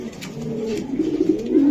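Young racing pigeons cooing close by, a short soft burst of low, throaty warbling coos with no talk over it.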